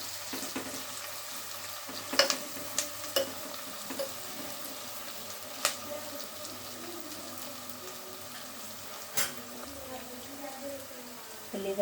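Onions frying in a pot with whole spices and slit green chillies for cashew dum biryani: a soft, low sizzle broken by scattered clinks and scrapes of a stirring spoon, fairly quiet and without talk.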